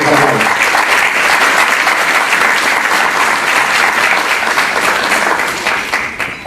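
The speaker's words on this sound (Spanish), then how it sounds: "Acompañemos con fuertes aplausos." Steady, dense applause from an audience at an academic event in Peru, sustained loud and close for several seconds before tapering off slightly at the end.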